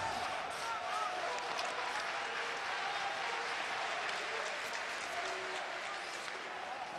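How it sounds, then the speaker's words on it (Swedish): Spectators at an SSK versus LHC ice hockey playoff quarterfinal murmur and stir in a dense, steady wash of crowd noise as a shot is taken, with an announcer talking over the arena din throughout. "Så går det ett sus genom publiken när Limatainen skjuter."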